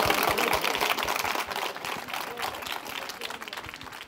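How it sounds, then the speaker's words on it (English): Audience applause for Neil Harbison at a Campus Party talk on art and cyborgs, a steady patter of clapping through the whole stretch, moderately loud with some crowd noise. "Round of applause for Neil Harbison, please."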